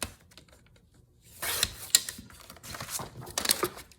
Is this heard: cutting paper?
yes